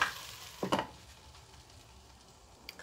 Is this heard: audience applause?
no